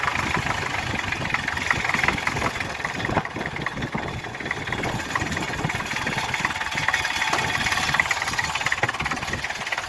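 A vehicle engine idles steadily with a loose exhaust pipe cover vibrating against it, giving a continuous close rumble with a buzzing rattle throughout.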